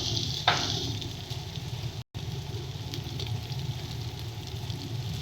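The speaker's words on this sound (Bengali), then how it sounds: "সমস্ত কিছু দিয়ে মশলাটাকে বেশ ভালো করে কষিয়ে নেব" Masala with cumin powder, coriander powder and salt sautés in a pan for a jackfruit seed and dried fish dish, a steady close sizzle with a sharp scrape of stirring near the start and a brief dropout midway.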